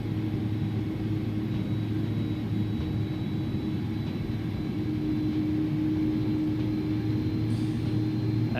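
Auxiliary power unit humming on an Iberia Airbus A300 in X-Plane 11, a steady low droning rumble with a faint tonal whine, continuous and unchanging throughout.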